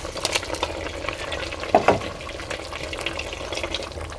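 Eggs drop into humba simmering in a pot, giving a gentle steady bubbling and faint sizzle with a couple of soft splashing knocks midway, close and fairly quiet.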